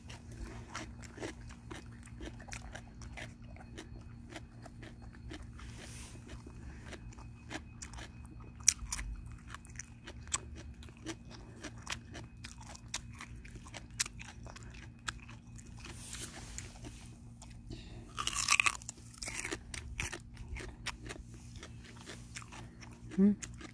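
Boksil, a Jindo dog, bites and chews a red radish, giving faint, close crunching and gnawing sounds that come in irregular bites over a low steady hum, with a few louder crunches near the end.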